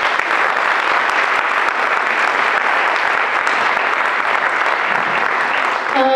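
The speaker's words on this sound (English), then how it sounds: "So I'd like to give a round of applause for these students." Steady, dense audience applause fills the whole stretch at a candidate night for youth, loud and continuous with no talk over it.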